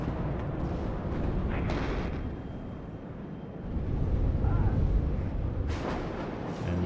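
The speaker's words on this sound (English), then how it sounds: "And you see artillery coming in." Artillery fire in the WARNO real-time strategy game rumbles as a dense, continuous roar of distant explosions and booms, with a few sharper cracks standing out above the low, sustained din.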